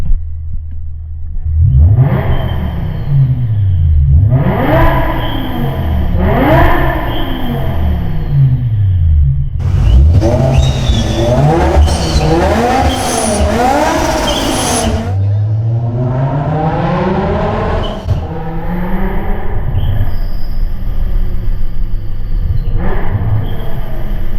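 Supercharged 650 hp V10 BMW M5 revving loudly and close, with repeated sharp rises and falls in engine pitch, one long sustained high rev near the middle, and a steady rumbling idle between blips.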